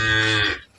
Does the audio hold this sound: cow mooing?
yes